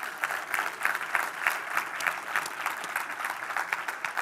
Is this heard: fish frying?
no